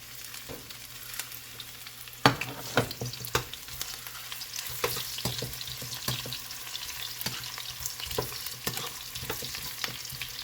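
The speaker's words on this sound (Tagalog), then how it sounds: "mainit na yung kawali ni Mrs. Ah, uunahin niya yung luya." Ginger hits a hot pan and sizzles steadily, with sharp clinks and scrapes of a utensil stirring it at close range and no talking.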